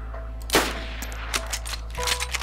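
Gunfire in the DayZ Standalone video game: a loud single shot cracks early, followed by a few fainter, scattered reports against a low steady hum.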